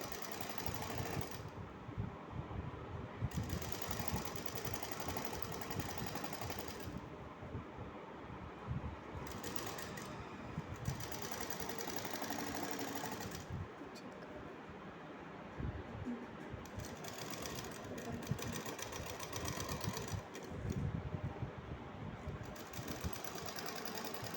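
A sewing machine stitches a dori slowly and steadily, its continuous mechanical whir and rapid needle chatter running close and even throughout with slight variations in pace.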